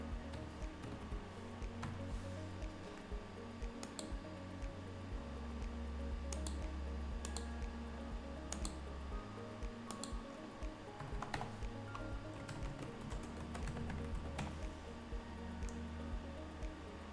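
Typing credit card details on a computer keyboard while setting up an AWS account, a faint, quick run of scattered key clicks under a low background hum, no voices.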